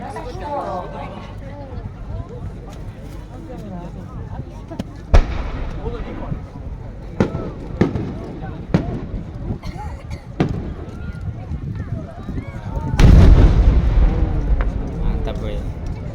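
Fireworks bursting at the Ashikaga display in Japan, with several sharp distant booms and crackling over a steady crowd murmur, ending in one louder, longer burst and rumble; people talk throughout.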